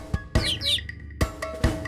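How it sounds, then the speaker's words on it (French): Small bird chirping in a children's animal song, bright tweets and trills between sharp clicks, loud and close with no voice over it. "Le petit oiseau, petit oiseau, petit oiseau."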